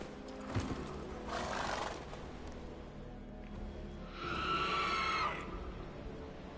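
Roach the horse in The Witcher 3 gallops with muffled hoofbeats, then lets out a loud, drawn-out neigh near the end, with no talking.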